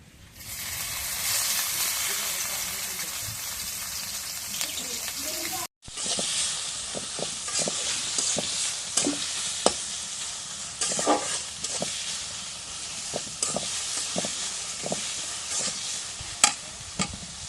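Pieces of food fry in hot oil with a constant loud hiss and sizzle, then a utensil stirs them in the pan, adding sharp scrapes and taps over the frying.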